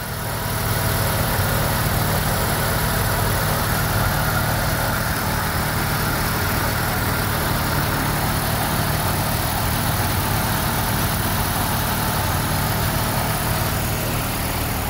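A car engine idles steadily around 1100 rpm while the cooling system is bled, a continuous, even low hum and rumble that stays loud and close throughout with no talking.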